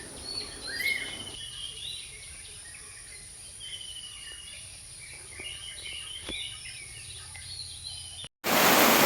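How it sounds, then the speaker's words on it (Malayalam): Several kinds of birds chirp around a Kerala coconut grove, scattered short calls and tweets near and far over a constant high insect drone, moderately quiet, ending in a sudden loud burst of noise. "പല ഇനം കിളികളുടെ ശബ്ദം അവിടെ കേൾക്കുന്നുണ്ട്"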